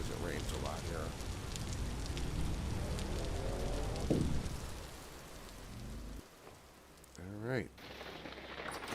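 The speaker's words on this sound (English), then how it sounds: "Oh, it's raining here too." Steady rain pours across the Vintage Story game world in a dense, even hiss. Bird-like chirps and short tonal sounds break through, one voice speaks briefly, and the rain thins near the end before returning.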